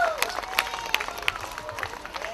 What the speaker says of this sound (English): Give Don a big round of applause